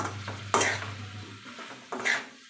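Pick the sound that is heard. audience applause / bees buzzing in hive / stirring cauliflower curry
stirring cauliflower curry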